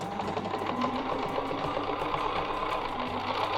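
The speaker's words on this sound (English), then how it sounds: "I'm going to stitch from the top of the branch" A sewing machine stitches through a quilt top along a marked line, its needle running in a fast, even mechanical whir that holds steady throughout. Close and alone, with no talking.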